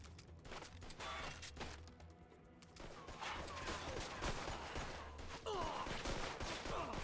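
Bursts of gunfire crackle through a shootout in the video game Mafia II, with rapid shots and impacts layered over a steady background drone, fairly loud and continuous across the scene.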